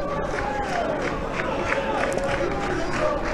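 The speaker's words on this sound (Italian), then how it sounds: "Ininterrotto il canto e battimani del fronte ribelle saronnese" Football supporters of FBC Saronno chant and clap continuously in the stands during a match against Varese, a dense, loud crowd roar with rhythmic claps under a commentator's voice.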